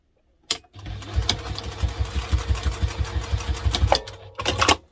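A sewing machine top stitches the flap of a bag in one continuous run of about three seconds, a loud, close, pulsing motor hum, with a few sharp clicks before and after it.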